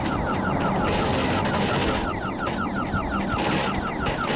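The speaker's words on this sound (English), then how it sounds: "There's an alarm going off" A car alarm sounds on a New York street, its repeating electronic warble cycling steadily and loudly throughout over heavy traffic and street noise.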